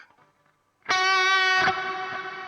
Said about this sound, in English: You can hear just the reverb.